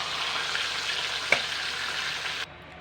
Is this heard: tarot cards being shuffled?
no